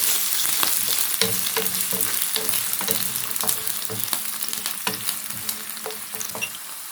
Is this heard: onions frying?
yes